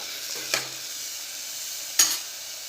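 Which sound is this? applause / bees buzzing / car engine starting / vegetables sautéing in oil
vegetables sautéing in oil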